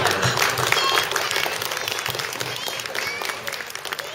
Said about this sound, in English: So just a quick round of applause